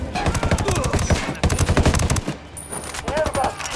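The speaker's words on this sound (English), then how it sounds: "Open fire." Rapid automatic gunfire in the tactical shooter game Ghost Recon Wildlands, loud and close, with dense overlapping bursts through most of the stretch and a short lull before firing resumes.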